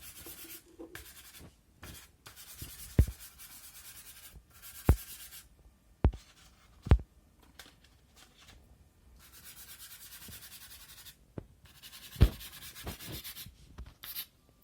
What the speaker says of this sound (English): I'm just going to look at sketching very quickly, just putting some colours down and what I see.